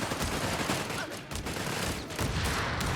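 Automatic weapons fire in Company of Heroes 3, a WWII real-time strategy battle between Wehrmacht and US forces, with dense, continuous bursts of gunfire overlapping at close range.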